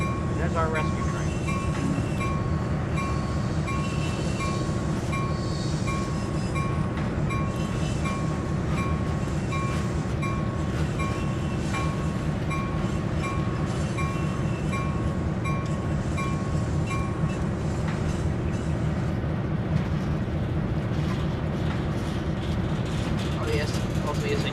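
An Amtrak rescue train runs in Train Sim World 3, a continuous low rail rumble with a steady whining tone and occasional clanks, heard under someone speaking for much of the stretch.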